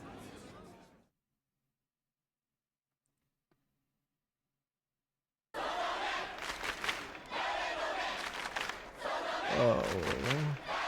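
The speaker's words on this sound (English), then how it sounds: "The entirety of the Dokyans who had gathered in Scramble Crossing had all begun chanting in unison" A crowd gathered at a city scramble crossing in the visual novel Chaos;Head Noah chants together, a loud, dense mass of voices that bursts in after a long silence and carries on steadily, swelling near the end.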